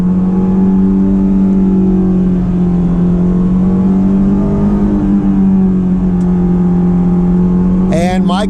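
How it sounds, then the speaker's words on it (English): Stock intake and exhaust of a 2004 Honda S2000 with a cable throttle drone steadily from inside the cabin while cruising, a loud continuous engine hum holding a nearly constant pitch. "so this is the stock intake noise you're hearing, the stock exhaust noise."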